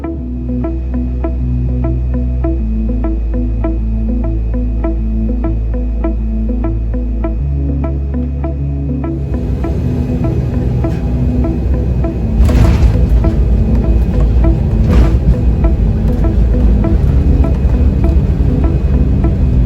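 Inside the cabin of an Air France Embraer 190 landing, a steady loud drone of engine and airflow hums throughout, then shifts to a rougher, louder rumble as the wheels touch down and roll, with brief thumps.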